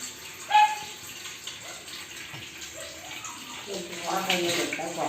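Water runs steadily from a tap as rice is rinsed for cooking, a continuous splashing wash with a brief clink early on. A person talks over the flow toward the end.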